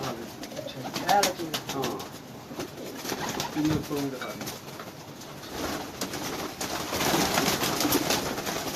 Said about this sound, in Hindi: ये पूर्ण कबूतर।